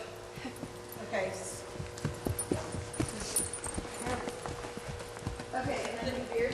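A horse's hooves clip-clop at a walk on an arena surface during a Parelli riding lesson, with irregular thuds at close range and people talking over them.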